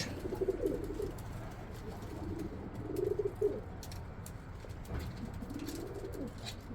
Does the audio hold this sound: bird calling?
yes